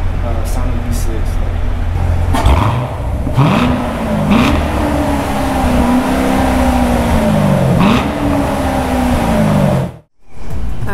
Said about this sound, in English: I think this is probably the best sound of V6.